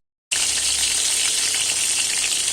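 Potatoes, eggplant and chopped vegetables with black cumin and ginger-cumin paste sizzle loudly in hot oil, a sudden steady frying hiss that starts abruptly and continues without talk.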